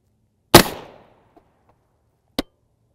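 An M80A1 rifle round fired at a boron carbide armor plate gives a loud, sharp crack with a short ringing tail, then a second, quieter and briefer report about two seconds later, with silence between.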